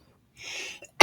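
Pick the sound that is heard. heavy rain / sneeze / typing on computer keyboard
sneeze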